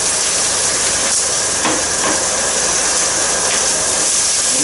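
Vegetables sizzle in smoking-hot garlic-infused olive oil, a loud, steady broadband hiss with a few sharper crackles and pops over a continuous frying roar.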